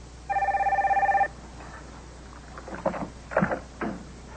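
An old-style telephone bell rings once in a rapid trilling burst lasting about a second, close and clear, followed by quiet rustling and a few thumps and knocks of movement.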